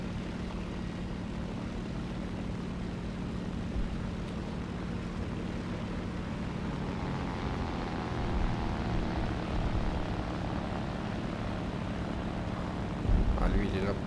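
Steady droning propeller engine of a bomber aircraft in a Roblox War Thunder game, a continuous hum throughout with a slight swell near the end; a voice talks faintly underneath.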